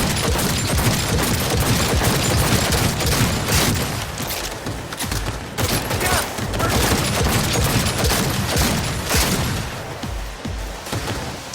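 Dense, continuous gunfire in the video game Cyberpunk 2077, rapid overlapping shots and booms packed together at a loud, close level, with a voice occasionally under the barrage.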